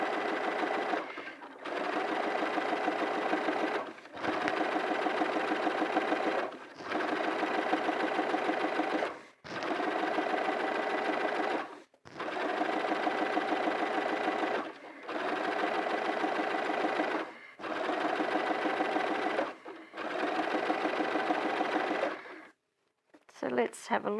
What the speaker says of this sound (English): You don't need to sit here and watch me continually stitch this